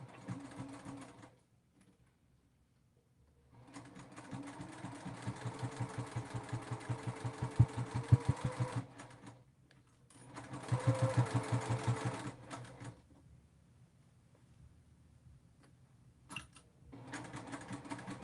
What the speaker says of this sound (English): We're going to sew with a 1/4 inch seam because that's what the directions say.